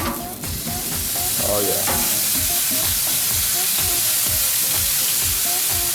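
Chicken quarters sizzle and crackle on a Lang smoker, a loud, close, continuous frying hiss with rhythmic popping bursts throughout, and a brief voice at the start.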